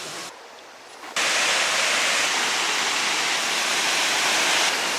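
A steady, roaring rush of a crowded waterfall at Tres Saltos, Chile, surges in after a brief quieter moment and continues loud and unbroken.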